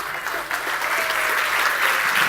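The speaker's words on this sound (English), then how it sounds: "Let's give him a round of applause." A live audience at a talk on stage, where a magician has been invited up, breaks into a full, steady round of applause, dense clapping that holds strong for the whole stretch.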